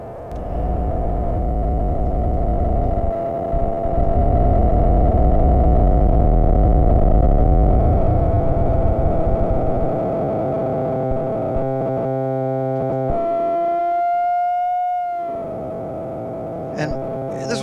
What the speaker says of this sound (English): Like the Dreamboat, the first module I ever made many years ago